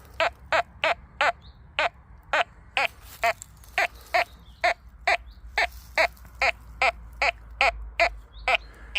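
Quest X10 Pro metal detector sounding its signal tones over a bronze coin, a steady run of short, evenly spaced electronic chirps repeating about twice a second, close and clear with no talking.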